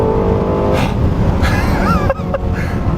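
A Lexus LFA supercar engine revs and accelerates, the high-pitched tone rising and sweeping through gear changes, loud and fairly close, with no talk over it.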